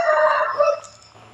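A single loud, drawn-out chicken call, close by, fading out after about a second.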